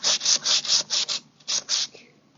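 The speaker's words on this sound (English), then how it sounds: "because we're sanding so much back" Rhythmic sanding of wood, with steady back-and-forth scratchy strokes in a run of quick passes, then a short pause and a few more strokes.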